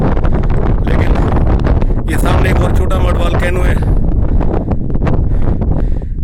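Strong wind roars steadily across the microphone atop the Chandragup mud volcano in Hingol, loud and continuous, with someone talking over it.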